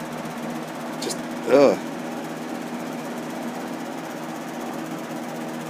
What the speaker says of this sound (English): I have my fan, but on high mode it sounds like this.